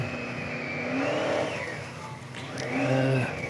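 A fire truck engine runs hard during a firefighters' pumper race, its steady roar rising and falling in pitch like revving, fairly loud and close, with no talk over it.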